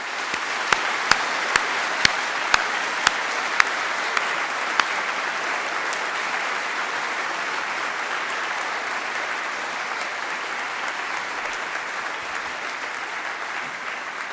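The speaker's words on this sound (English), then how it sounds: "put your hands together just one last time to say thank you for all of the people that have organised this" A graduation ceremony audience gives sustained applause, a dense, even roar of clapping that runs for about fourteen seconds. Several sharp, louder claps from one person near the microphone stand out early on.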